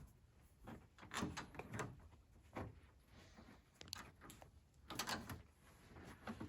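Interior door panel being pressed onto the door of a 1988 Monte Carlo, a series of quiet plastic knocks, clicks and rustling thumps at irregular intervals, close by and faint.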